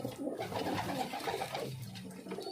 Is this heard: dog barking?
no